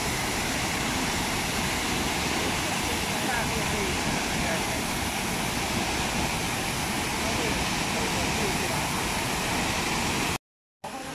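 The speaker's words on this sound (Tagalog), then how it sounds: "Ito na po yung waterfalls." Shifen Waterfall in Taiwan roars as a constant, loud wash of falling water, heard close and steady throughout with a brief dropout near the end.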